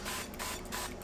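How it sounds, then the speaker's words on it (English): Avocado oil is sprayed onto the top of a pork loin for grilling, a short, faint, hissing spray in a few quick bursts. "give it a good spray on the top"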